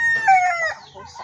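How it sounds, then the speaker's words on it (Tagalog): Backyard chickens clucking while a rooster crows, short clucks and a drawn-out crowing call, close and clear, with pigeons kept among the flock. "Ang dami manok nito guys, mga kalapati pa."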